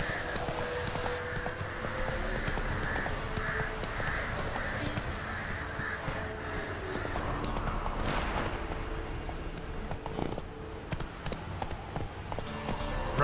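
Roach the horse gallops in The Witcher 3, with rapid, rhythmic hoofbeats close and loud and steady throughout, over a bed of ambient game sound.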